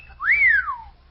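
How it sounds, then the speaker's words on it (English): A person whistles once at someone in a crowd, a single loud rising-then-falling wolf-whistle-like note about a second long, clear and alone. "Somebody whistled at me."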